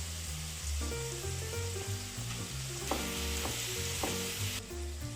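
Meat is turned over while it fries in a pan, producing a continuous loud sizzle with a low steady hum beneath and occasional soft stirring knocks, no voices.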